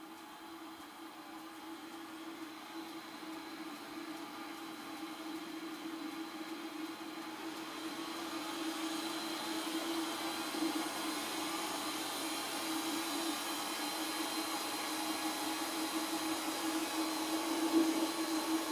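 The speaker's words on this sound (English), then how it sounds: "So now I got the axles in place, wheels are up off the ground, and I'm connected to give it a wheel spin test." An electric motor in a Smart car EV conversion spins the raised wheels in a spin test, a steady whine that slowly builds in pitch and loudness with no talking.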